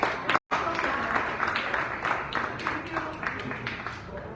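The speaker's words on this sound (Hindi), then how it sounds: "और एक नीला चक्र है, इसके लिए तालियां हो जाए।" An audience at a Buddhist talk breaks into lively, rhythmic clapping that holds at a fairly even level throughout, with a brief cut near the start.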